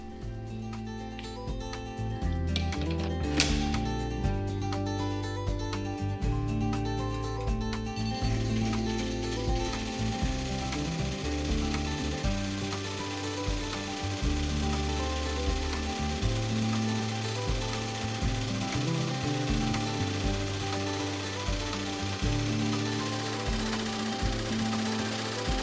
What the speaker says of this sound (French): Puis on passe à la machine à broder.